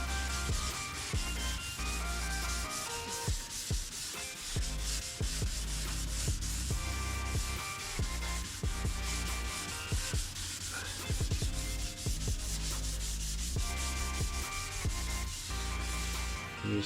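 Paint is sanded off a damaged Mercedes W126 bumper in close, continuous rhythmic rasping strokes, loud and unbroken with no talk.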